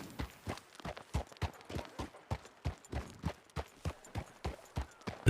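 Horse hooves clip-clop in a steady walking rhythm in a video game town, with about two hoofbeats per second, close and clear over a quiet background.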